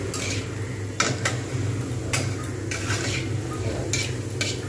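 Cabbage and spices fry in a pan with a constant low sizzle, while a utensil scrapes and clinks against the metal in a few sharp taps, close and moderately loud, with no talking.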